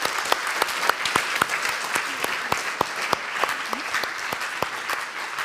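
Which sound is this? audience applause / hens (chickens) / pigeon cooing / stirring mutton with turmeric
audience applause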